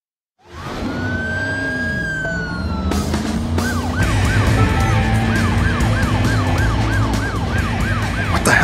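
An ambulance siren in the Driver: San Francisco video game wails loud and close over engine noise, switching from a long rising-falling tone to a rapid yelping cycle.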